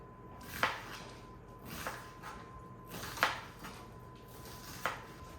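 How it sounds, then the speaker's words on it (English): A knife slices onions on a cutting board in a home kitchen, giving faint, evenly spaced cuts about every second and a half against a quiet room. "I'm just gonna kind of slice the onions up"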